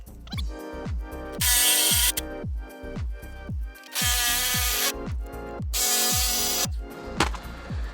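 Impact wrench or power drill running bolts snug on 6,000-pound scissor jacks being attached to a tiny home trailer, in a rapid run of short ratcheting bursts with brief pauses, loud and close.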